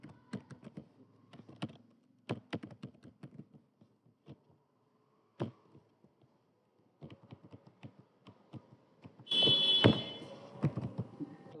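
Keys on a computer keyboard being pressed while entering SQL values, with irregular bursts of close, crisp clicks separated by pauses and a faster flurry of typing near the end.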